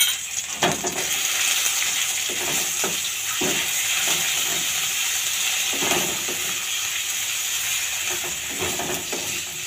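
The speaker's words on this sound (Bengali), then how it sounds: "এবার আমি বাদাম বা পেস্টটা ভেজে নেব" Nut paste fries in a pan with cinnamon, pepper, cloves, dried chilli and bay leaf, making a steady loud hiss and sizzle broken by short scraping stirs.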